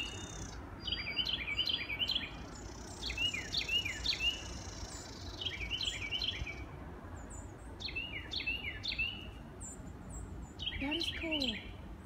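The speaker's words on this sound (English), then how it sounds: "Birds singing to me at dinner time." Several birds sing in repeated short chirping phrases at dinner time outdoors, faint and somewhat distant over a steady background hiss with insect-like buzzing, the phrases recurring every couple of seconds.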